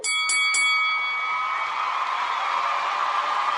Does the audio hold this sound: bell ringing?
yes